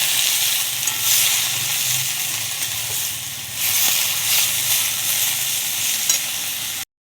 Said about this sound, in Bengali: এবার দিয়ে দেবো পেঁয়াজ। পেঁয়াজটাকে দিয়ে ভালো করে লাল করব।